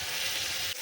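Vegetables frying in a pan with green chilli and garlic, a steady close hiss of sizzling oil filling the short moment alone without talk.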